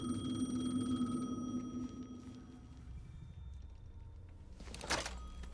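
An in-game telephone rings in Alan Wake 2, a steady tonal ring over a low ambient rumble that fades out partway through, followed by a brief burst of noise near the end, with no talking.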